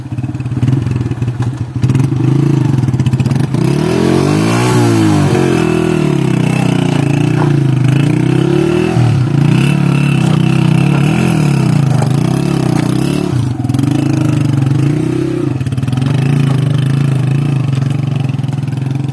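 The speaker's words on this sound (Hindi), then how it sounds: "एक उतरता है और एक बाइक आगे ले कर जाता है।" A motorcycle labours along a broken, rough village road in the Allai Valley, its engine droning steadily and loudly throughout, rising and falling with throttle changes, with thumps and rattles from the bumpy surface.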